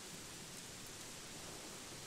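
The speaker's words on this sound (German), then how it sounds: "Dass man den Regen so hört" Rain in the fantasy video game Gothic 3, a soft, steady hiss of falling rain with no distinct drops, faint and continuous on its own without voices.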